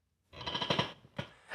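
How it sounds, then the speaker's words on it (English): A short, dry creak with a rough, stuttering texture, rising and then catching again briefly near the end, close and fairly quiet. "This is a door creak, and dry,"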